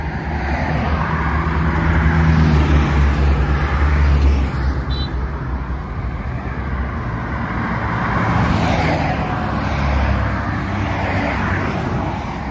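Busy road traffic on a street in Libreville, Gabon, a steady loud wash of passing car and bus engines with rumbling low end, swelling around the middle and continuing throughout without talk.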